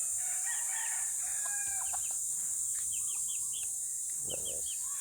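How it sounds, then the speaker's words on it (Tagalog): Young backyard roosters crow among clucking chickens, joined by scattered bird chirps over a constant high hiss, with no one talking. "Yung mga manok ko guys."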